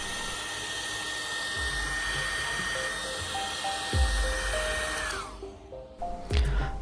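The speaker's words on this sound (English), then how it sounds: "Take any hairdryer and heat the surface of the screen for 1 or 2 minutes." A hair dryer blows steadily while heating the screen of an iPhone X during disassembly, a loud even whir with a whine that drops near the end as it stops and is handled briefly.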